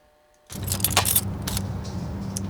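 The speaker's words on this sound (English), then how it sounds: "all that was just the clicking of a key" Keys clicking in a first-person horror video game: after a quiet start, a burst of sharp metallic clicks and jangles rings out over a low steady hum, fairly close and loud.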